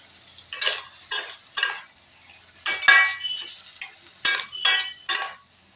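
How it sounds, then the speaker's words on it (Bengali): Sliced ivy gourd frying in a pan is stirred with a utensil, producing a series of close, sharp scraping strokes and light sizzles in an irregular rhythm, with quiet gaps between strokes. "এর মধ্যে আমি এই মিক্সি ধোয়া অল্প একটু জল দেবো"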